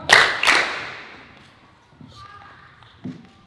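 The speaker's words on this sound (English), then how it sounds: "2 claps. 2 more." A classroom of sixth-grade students claps in sharp bursts, two loud claps close together at the start, followed later by softer scattered taps and a faint thump.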